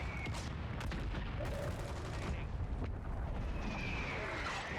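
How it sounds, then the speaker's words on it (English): Cluster bombs go off in the Warzone video game, a chaotic wash of overlapping blasts and crackling gunfire at mid distance that builds into sustained rumbling bursts, with no voices heard. "Cluster bombs go off around me."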